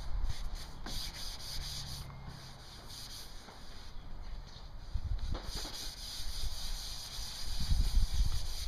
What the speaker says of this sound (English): We're lightly sanding the primer prior to spraying our first side